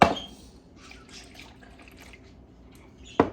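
Whole milk poured into eggs in a bowl for a tres leches cake, a soft liquid trickle and light splashing, close and fairly quiet, with a sharper splash or knock at the start and the end.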